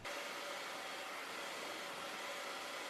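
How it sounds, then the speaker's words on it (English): Steady, loud blow dryer whooshing continuously while molding the hairline of a colored wig, a broad airy roar with no pauses and no talking. "I use my blow dryer to kind of mold that back"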